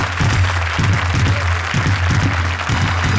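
A studio audience at a live comedy show claps loudly and continuously while a rhythmic low thumping beat pulses underneath, suggesting clapping along to band music.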